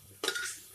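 A metal spoon clinks sharply against a pan while sama rice khichri is stirred, one bright scrape-and-clatter burst that rings briefly and fades, close and alone.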